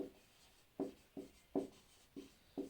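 Pen scratching notes onto paper during a lesson, heard as six short, distinct strokes spaced irregularly, close and quiet, with no voices.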